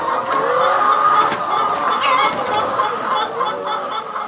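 A flock of laying hens clucks steadily and close, with overlapping calls and busy chatter that carries on without a break.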